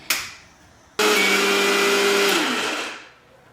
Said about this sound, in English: I used the number setting on the mixie jar to completely grind